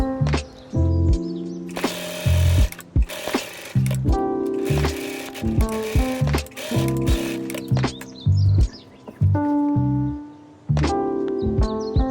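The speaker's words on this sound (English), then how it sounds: "Sew the gathering stitches on the armhole." A sewing machine stitches gathering stitches along a blouse armhole, running in close, loud bursts of rapid mechanical whirring and clatter that stop and start repeatedly.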